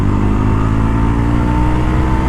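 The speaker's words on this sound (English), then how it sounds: "Exhaust sounds nice." A Yezdi Roadster motorcycle's exhaust drones steadily as the bike pulls along an open road at speed, a loud, even engine tone with a slight rise, with no talking.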